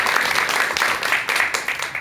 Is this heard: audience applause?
yes